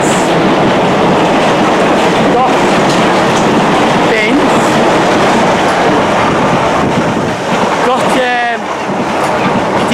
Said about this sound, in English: all you got here is a cross country train passing